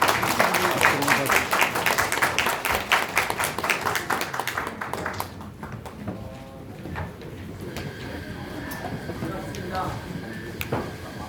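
Applause greets a politician at a press conference in a city hall book café, a dense burst of clapping from a gathered crowd for about five seconds before it fades into quieter room murmur and shuffling.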